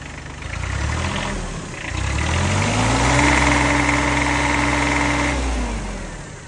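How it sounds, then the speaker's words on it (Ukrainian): A small diesel tractor engine with a side cylinder idles nearby, a steady low throbbing chug that dips briefly and then settles into an even, loud run with a faint whine, with no talk. "Так повинен працювати трактор"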